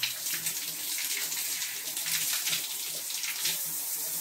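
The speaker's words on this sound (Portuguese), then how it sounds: "A pressão de água aqui a gente não pode abrir muito" A kitchen tap with limited water pressure runs in a steady, hissing stream, continuous and moderately close, with a few faint clinks in the background.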